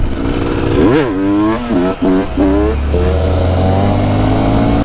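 A 2025 Honda XR 190L motorcycle engine is revved loudly up close, with several quick rising and falling throttle blips over a steady idle rumble.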